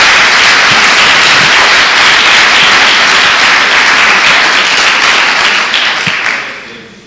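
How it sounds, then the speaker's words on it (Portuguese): A church congregation bursts into loud, close applause in praise of Jesus, a thick sustained clatter of many hands that fades away in the last second. "Dê uma salva de palmas a Jesus."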